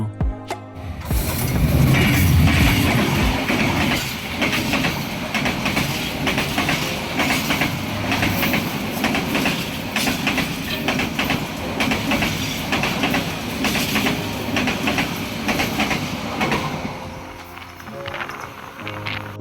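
Drutojan Express train running along the rail track, a loud continuous rumble with clattering wheels and mechanical rattling throughout, easing slightly toward the end.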